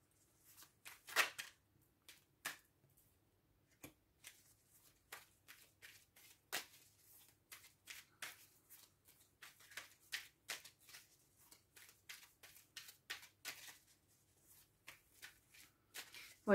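Tarot cards are shuffled by hand in repeated short riffling bursts with brief pauses between, close and soft in a quiet room, with faint speech now and then.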